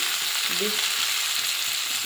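Yardlong beans and potato fry with onion in a hot pan, giving a constant close sizzle with a brief soft stirring scrape and no talking.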